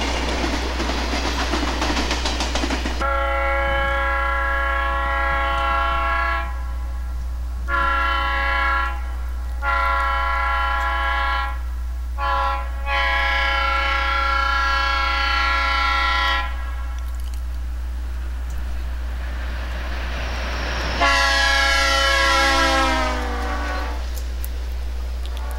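Conrail diesel freight train passing at La Porte, Indiana in 1990, a loud steady rumble of engines and rolling cars with long blasts of a multi-tone horn sounding repeatedly throughout.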